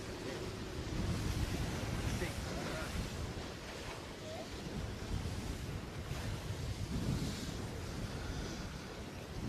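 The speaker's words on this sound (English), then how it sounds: "Just still windy here." Wind buffeting a microphone aboard a racing sailboat, with a steady low roar and gusts over surf and water noise, continuous and fairly loud with no talk.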